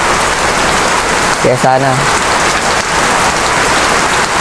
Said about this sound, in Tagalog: Tingnan nyo, lakas ng ulan mga idol.